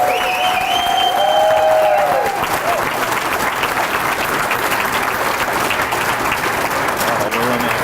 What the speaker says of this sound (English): Let's do one more round of applause for all of the inductees.